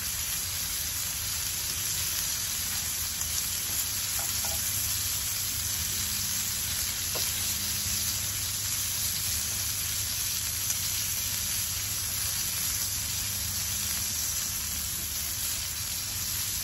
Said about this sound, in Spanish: Vamos a terminar de asar los chiles para hacer el guacamole ya.